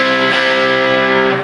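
An electric guitar with distortion sustains a loud, bright rhythm chord up close, ringing steadily for about a second and a half.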